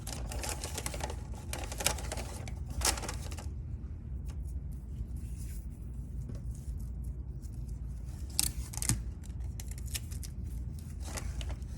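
Tape being pulled and pressed down inside a paper bag kite during a children's craft, with intermittent crinkly rips and rustles over a quiet background.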